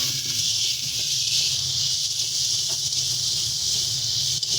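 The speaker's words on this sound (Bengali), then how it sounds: "দিয়ে দিচ্ছি এবারে কেটে রাখা টমেটো।" Chopped tomatoes tipped into hot spiced oil for a koi fish curry with potatoes, giving a loud, steady, close sizzling hiss that holds throughout with no talking.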